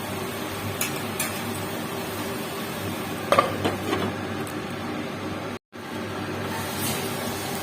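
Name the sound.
frying spice masala with tomato in a pan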